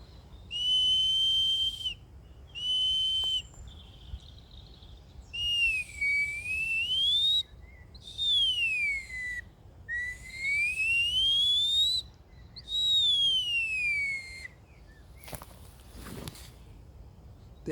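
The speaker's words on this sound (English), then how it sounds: "I think also called poachers' whistles." A handmade ash wood whistle, also called a poachers' whistle, blown outdoors in a string of loud, shrill, bird-like tones: two short blasts, then several longer rising and falling whoops, ending with a brief rustle.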